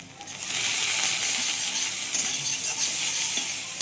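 Spices with coriander powder sizzle steadily in a hot pan for duck egg curry, a close, bright frying hiss with occasional stirring scrapes and no talk.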